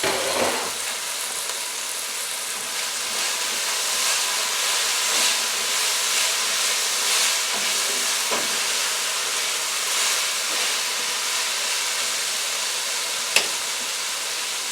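Teriyaki chicken stir fry cooking under a cover, a steady loud hiss and sizzle that holds evenly throughout, with one brief click near the end.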